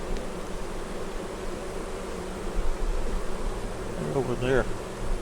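Honeybees buzzing around an open hive while the brood boxes are being worked, a steady dense hum close by with a brief louder flutter of a bee passing near the end.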